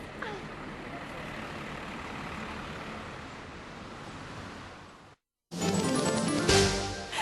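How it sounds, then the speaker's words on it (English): A city bus pulls in and comes to a stop, its low engine rumble steady and close for several seconds before a brief gap, followed by a louder burst of brighter, hissing noise like air brakes. "Oh, here comes our bus."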